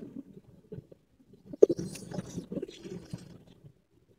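A pair of racer pigeons coo softly up close, low muffled throaty burbles with light rustling and a few faint shuffles, then quieting near the end.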